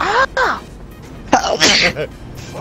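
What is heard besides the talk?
sneeze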